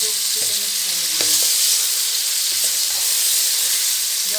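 Chicken fries in a pan with a loud, continuous hissing sizzle, punctuated by a few brief clicks and taps near the start; no talking.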